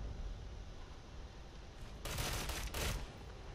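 Gunfire aimed at the player in the video game Ghost Recon Phantoms: a quiet background hum, then two sharp bursts of rapid shots close together, loud and near, with no voices.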